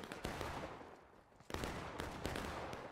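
Musket fire in the Civil War video game War of Rights: a ragged series of loud cracking shots, some near, some overlapping, over a continuous roar of distant battle.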